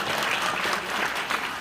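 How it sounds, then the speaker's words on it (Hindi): A dense crowd claps loudly and steadily at an outdoor election rally in Sadhora, a continuous wash of applause with no break. "जोरदार ताली एक बार"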